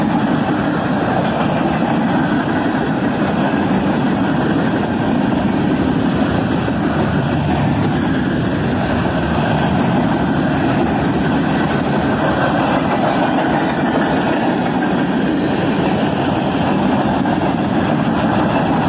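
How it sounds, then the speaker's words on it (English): A long freight train passes close by, a string of coil shield cars rolling in a steady, loud rumble with low engine drone throughout and no voices. "Lots of coil shield cars start off this train."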